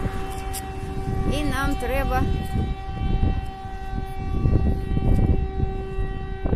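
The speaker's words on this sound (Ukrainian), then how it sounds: "завила сирена" A steady air raid siren tone drones in the distance beneath nearby talking by an empty school in Sloviansk, with a faint wavering pitch and background rumble.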